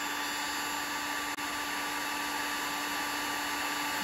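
A Parkside heat gun blows hot air with a continuous, steady whooshing roar and a faint motor whine, close and even throughout, with one brief dip partway through.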